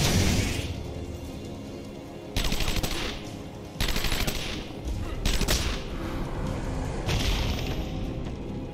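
In Batman Arkham Asylum, enemy gunfire is aimed at Batman, with loud sustained automatic bursts broken by sharp gaps and cracks, close and harsh, over a steady noisy game backdrop.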